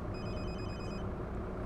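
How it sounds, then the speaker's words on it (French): A telephone in the bus-driving game The Bus, set in Berlin, rings with a steady electronic tone for about a second over a loud, constant engine and road rumble. "il y a le téléphone qui sonne"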